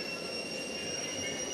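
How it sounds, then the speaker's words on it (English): A combat robot's spinning weapon in a robot fighting arena holds at idle speed, a steady high-pitched whine with sustained tonal hum over a rumbling background, brief and continuous. "There's the robot getting up to its idling speed."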